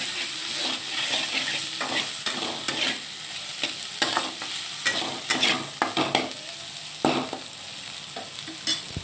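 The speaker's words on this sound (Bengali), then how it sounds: "তো এটা ভালো করে ভেজে নিতে হবে।" Chopped banana flower fried with turmeric in a pan, a continuous close sizzle broken by frequent sharp scraping stirs at an uneven rhythm, with no talking.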